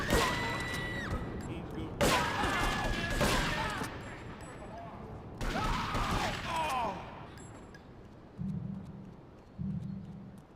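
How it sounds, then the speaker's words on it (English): Shotgun fire in GTA 3, several loud booming blasts spaced a few seconds apart with ringing tails and game effects between them, followed by quieter low thuds near the end. "Guess this is the perfect time for a shotgun."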